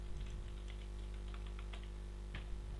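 Fingers tap a computer keyboard in a quick run of light clicks, close but faint over a low steady hum, then a single louder keystroke near the end.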